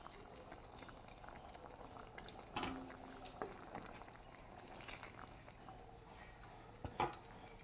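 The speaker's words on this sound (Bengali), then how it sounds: "আর একটু ফুটাই নেব" Chana dal with cauliflower bubbles in a pot at a gentle, quiet boil, with a soft continuous burble and a few louder pops and clinks.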